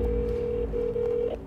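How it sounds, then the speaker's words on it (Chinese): Outgoing phone call placed through Siri to a super glue emergency hotline, a steady ringback-style tone humming alone and continuously at moderate level for the whole moment. "正在拨打瞬间胶紧急电话行动电话"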